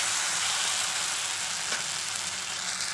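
Sliced onion frying in hot oil in a kadai, a dense, steady sizzle that holds at an even, fairly loud level throughout, with no voices.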